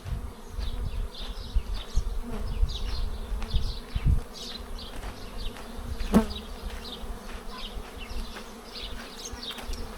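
A dense, steady buzz of many honeybees clustered at an overcrowded hive entrance, a constant droning hum with individual wingbeats flickering through, no voices.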